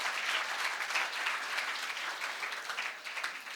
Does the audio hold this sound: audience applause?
yes